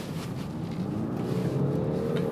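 Steady engine drone of a 2017/2018 Land Rover Discovery SUV that swells gradually as it accelerates with noticeable lag, heard from inside with a low rumble and rising tone.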